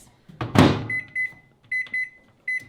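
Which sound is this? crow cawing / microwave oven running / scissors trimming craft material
microwave oven running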